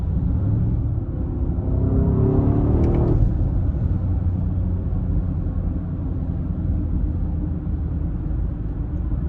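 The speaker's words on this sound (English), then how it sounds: "But like outside, the exhaust does sound really throaty." An Audi SQ8 accelerates hard in first gear with a throaty exhaust. A deep, steady engine rumble rises to a peak partway through, then settles into a sustained drone heard from inside the cabin.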